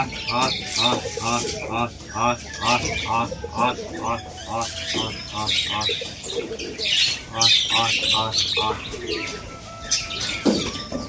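A flock of pigeons arriving to feed at a loft coos and chirps, with occasional wing flaps, all mixed under steady nearby talk.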